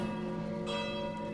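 Church bells ring steadily and loudly, their sustained tones layering over one another with no talk.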